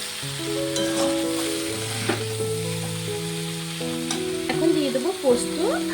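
Cauliflower and potato with turmeric stirred in a pan, a close sizzle under repeated spatula scrapes and clinks, with tonal clatter near the end and no speech.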